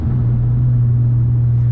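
A 2005 Audi A4 3.2 FSI Quattro engine growls at highway speed, a loud, steady low drone with a constant deep hum heard from inside the car, no talking over it.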